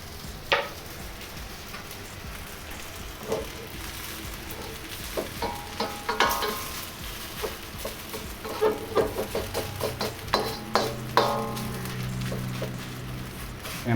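Noodles frying in plenty of oil in a pan for beef pan-fried noodles, a steady close sizzle with scattered crackles and pops and occasional clinks of a utensil, growing busier toward the end.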